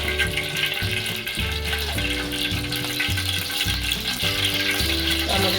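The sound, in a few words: oil added to the pan, frying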